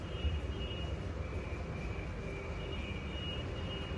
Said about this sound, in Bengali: এই হচ্ছে পর্তুগালের মেট্রো